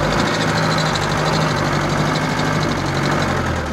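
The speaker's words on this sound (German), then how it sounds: "Natürlich hat jetzt der Motor eine Extrembelastung gemacht. Da lassen wir noch eine Zeit lang rennen und macht ihn nicht einfach aus." A Unimog 411 diesel engine idles after heavy work in snow, a steady close rumble with a faint knocking texture, running alone without talk.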